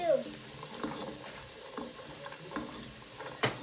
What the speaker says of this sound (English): so now we stir those around too